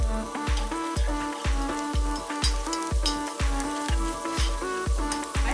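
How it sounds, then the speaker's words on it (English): Garlic stirred into a pot of hot oil for tortellini soup, producing a continuous close sizzle that is punctuated by regular, rhythmic scraping knocks from stirring, with no one talking. "So we are going to add the garlic. This is the garlic. And then stir that in."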